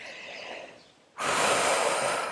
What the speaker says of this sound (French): Et on va prendre une belle respiration, se recharger pleinement, ouvrir grand la cage thoracique